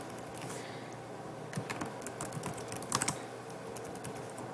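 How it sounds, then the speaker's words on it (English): Quick irregular keystrokes on a computer keyboard while entering class titles into a Google Sites page, a steady run of soft clicks with a few louder taps, close by and alone without talk. "type in the titles of your English classes"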